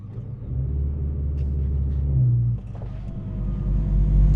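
A car engine at Santa Pod drag strip holds low, rumbling revs on launch control, a steady deep drone that dips briefly midway and then builds again, close and loud.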